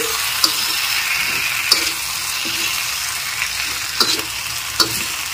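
Fish curry masala with salt being stirred in a pan, giving a steady close sizzle with a few sharp scrapes and clicks of the spoon against the pan, and no voices.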